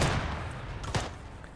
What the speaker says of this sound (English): I'm hearing a lot of gunfire over on the left